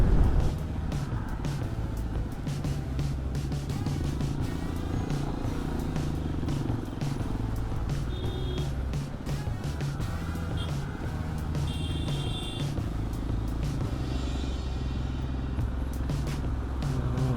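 Cars and other road vehicles drive past on a busy road, giving a steady, loud engine rumble and tyre roar that holds for the whole stretch with no clear gaps.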